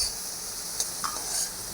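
Boondi, gram flour droplets for motichur laddu, fry in oil with a steady hiss and sizzle, accompanied by a couple of faint stirring clinks.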